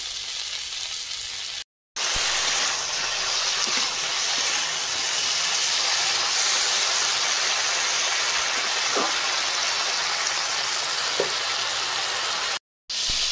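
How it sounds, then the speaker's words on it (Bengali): Bitter gourd and potato pieces sizzle steadily in hot oil in a pan, a continuous close crackling hiss with a few soft stirring clinks, broken by two brief silent gaps. "দেখুন করলা আর আলু সুন্দর ভাজা হয়ে গেছে"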